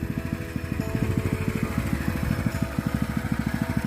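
A rotary tiller engine runs steadily while tilling soil to prepare a field for a luffa (gambas) crop, its rapid rhythmic chugging loud and continuous, with a fluctuating drone underneath.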